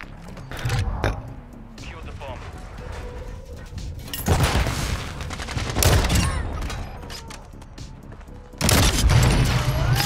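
Gunfire in an online shooter video game: loud bursts of automatic fire and heavy booming shots come in clusters, close and punchy, with quieter mechanical clatter between them.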